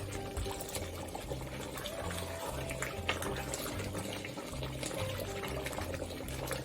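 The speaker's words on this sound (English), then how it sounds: "it's bubbling ferociously" Thick chicken curry bubbling and popping steadily in a pot, a soft continuous simmering texture heard close.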